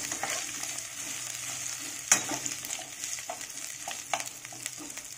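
Potatoes fry in spices in a pan for a dal and potato dish, crackling with a continuous sizzle, a sharp clatter as they are tossed in, and occasional stirring scrapes.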